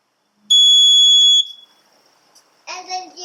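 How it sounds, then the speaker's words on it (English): The control unit of an electric frunk on a 2021+ Tesla Model S Plaid sounds one steady high electronic beep lasting about a second during initialization, loud and close, followed by a brief burst of other noise. "Hold down the button on the control unit until it beeps."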